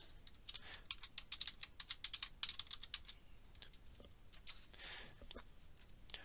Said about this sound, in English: Next, what we're going to do is we're going to type in a password.